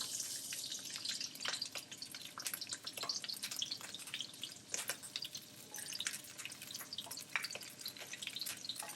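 Broccoli spitting and crackling in a hot pot, moisture making it splatter in a steady scatter of small sharp pops and sizzles, fairly close but quiet, with no one talking.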